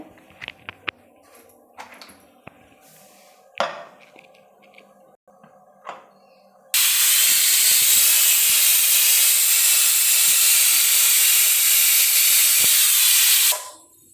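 A pressure cooker whistle lets out a long, loud, steady hiss of escaping steam for about seven seconds, preceded by quieter kitchen clatter and knocks.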